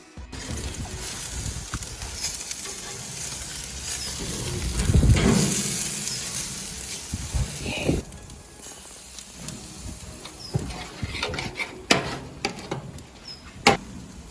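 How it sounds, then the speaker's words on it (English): Spatchcock chicken laid skin side down on a Tower barbecue grill, a crackling sizzle that swells for a few seconds and then eases into scattered pops, clicks and faint hissing. "I'm going to go skin side down first and get some nice grill marks"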